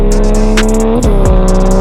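A drift truck engine revs loudly and close up, holding a steady growl with quick blips and dips in pitch, over music.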